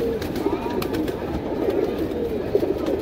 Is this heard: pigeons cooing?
yes